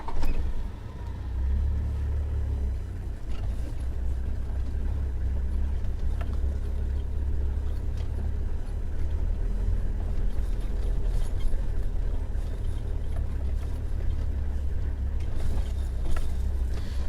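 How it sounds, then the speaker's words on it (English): A safari vehicle driving, its engine a steady loud low rumble up close throughout, with faint rattles and knocks over the drone. "So I can try to drive a bit closer again."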